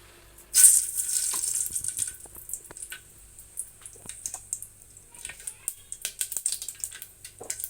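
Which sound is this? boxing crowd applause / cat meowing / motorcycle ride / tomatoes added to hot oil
tomatoes added to hot oil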